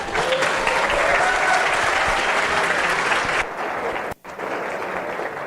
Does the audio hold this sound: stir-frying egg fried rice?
no